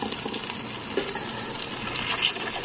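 Eggplant frying in hot oil in a pan gives a dense, steady sizzle and crackle that runs unbroken, close and fairly loud, with no talk.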